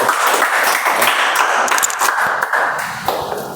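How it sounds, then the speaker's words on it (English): An audience at a Toastmasters club meeting claps for several seconds, a lively burst of applause close by that thins out gradually toward the end. "Big round of applause for Avi."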